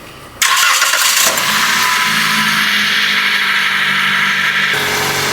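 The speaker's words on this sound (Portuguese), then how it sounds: "Tem um ajudante lá, liga o motor para nós." A car engine cranks and catches, then settles into a steady loud idle in a workshop during an automatic transmission fluid change, with no talk over it.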